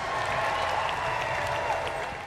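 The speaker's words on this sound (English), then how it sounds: "A round of applause for Kennedy Williams." A crowd applauds steadily, a dense wash of clapping that tapers slightly at the end.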